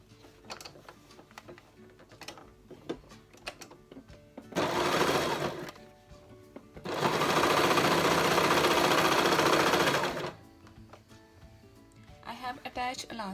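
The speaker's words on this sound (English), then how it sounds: "now I will use my sewing machine and just attach these corners" A sewing machine whirs in two bursts while stitching elastic onto trouser corners, a short run then a longer steady stretch, between quiet handling clicks and rustles.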